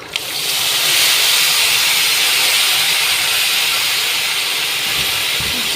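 Tamarind extract poured into a hot pan for tamarind rice sets off a loud, steady sizzling hiss that rises quickly and holds, with no talk over it.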